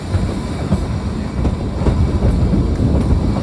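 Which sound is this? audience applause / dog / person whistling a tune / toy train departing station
toy train departing station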